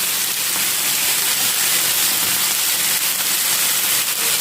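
Chicken masala fries in a pan with a loud, dense, continuous sizzle and hiss, close to the mic and uninterrupted by speech.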